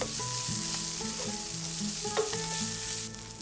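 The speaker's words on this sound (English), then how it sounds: "Fry the onion until it gets brown." Onion, chopped tomatoes, green chilies and cilantro fry in a pan with a continuous loud sizzle, heard close up and alone, while faint background music tones run beneath it.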